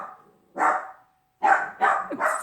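Dogs indoors bark in loud, close bursts: one sharp bark, a pause, then three quick barks in a row with a brief yip between.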